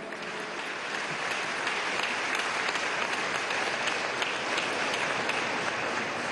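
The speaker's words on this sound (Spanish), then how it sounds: "desde aquí le damos un aplauso de amor, de agradecimiento por la atención de este joven" Sustained applause from a crowd in the Caracas Metro honoring medical staff, a dense, even clatter of many hands clapping with no breaks or speech.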